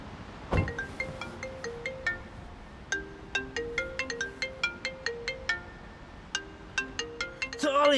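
A melodic phone ringtone plays in repeated bright tonal phrases, loud and close, with a short break before it resumes and a brief burst of noise at the end.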